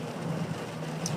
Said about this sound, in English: let me pack up and wait for this rain to slow down.